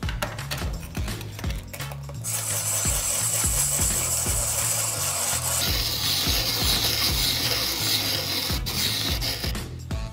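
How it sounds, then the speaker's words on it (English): A shaved ice machine grinds ice for a matcha, watermelon and charcoal dessert, giving a loud steady scraping whir that continues without a break after a few short rhythmic starts. "Now it's ready to shave the ice and decorate!"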